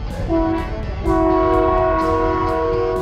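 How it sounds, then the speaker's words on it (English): A train horn blasts loudly in a long, steady chord, briefly breaking off and then sounding again over the rumble of the Skunk Train in California's redwoods. "it's a really loud air horn"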